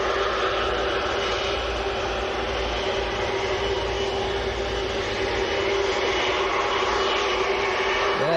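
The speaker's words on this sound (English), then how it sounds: "Virgin lining up. Airbus A330." A Virgin Airbus A330 airliner lines up at Manchester Airport, its engines producing a steady, loud roar with a constant whine that holds throughout.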